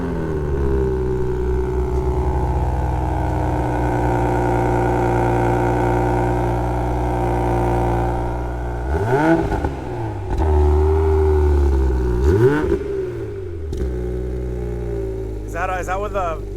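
A Toyota Supra Launch Edition with an aftermarket exhaust idling steadily, then two sharp revs blipping up and dropping back, with people talking nearby.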